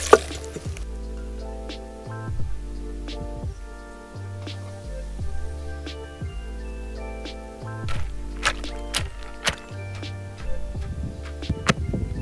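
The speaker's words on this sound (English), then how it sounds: "So at this point I'm pouring in some water." Water is poured onto ground mango kernel paste, with soft dripping and squishing liquid sounds over steady rhythmic mechanical tones, fairly quiet throughout.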